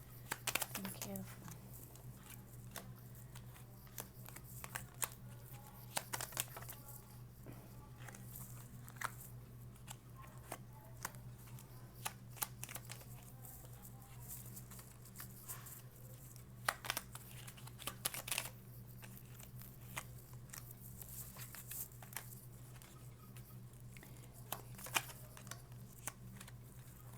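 A tarot card deck being shuffled, producing soft irregular riffles and taps that come and go over a steady low hum, with quiet handling noises throughout.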